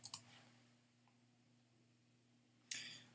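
Sparse typing on a computer keyboard: two or three quiet, crisp key clicks separated by a pause, with a faint electrical hum beneath.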